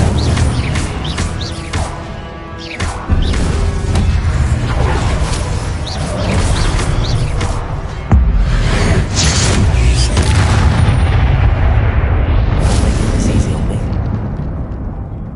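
Spell explosions in the Hogwarts Legacy video game: loud, dense booming blasts and crackling bursts pile up almost without pause, forming a heavy, rumbling wall of sound.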